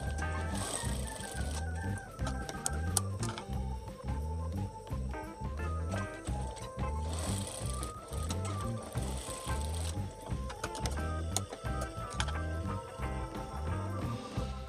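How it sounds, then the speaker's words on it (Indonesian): Sewing machine stitching darts on the back panel of a batik gamis dress, a steady rapid mechanical chatter running continuously at close range, loud and alone with no talk. "di bagian belakang kita jahit kupnatnya terlebih dahulu"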